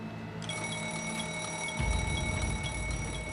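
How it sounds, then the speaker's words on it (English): A high electronic overspeed alarm tone rings steadily inside a train driver's cab with ticking pulses, joined midway by a low rumbling hum of machinery. "an alarm activates inside the driver's cab"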